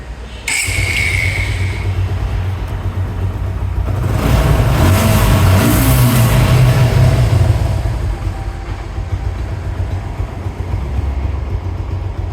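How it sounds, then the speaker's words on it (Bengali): A 2025 Suzuki Gixxer Monotone motorcycle with low mileage starts with a sharp catch, then idles in a steady, close, low hum that swells briefly before settling back to an even drone. "বাইকটি আমি আপনাদেরকে স্টার্ট করে দেখাই তাহলে ভিউয়ার্স"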